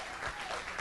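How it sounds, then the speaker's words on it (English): Comedy club audience at the Punchline applauding, a brief burst of steady clapping with a few louder swells, close and dense. "Round of applause again"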